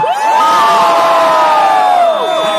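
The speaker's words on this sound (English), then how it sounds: "if you guys are Black Widow fans, give me a cheer" A crowd at a Marvel fan event in India cheers and whoops loudly for Black Widow, a dense burst of voices swelling and holding for a couple of seconds before fading.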